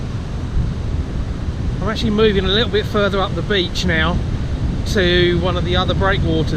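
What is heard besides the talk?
harsh wind on a beach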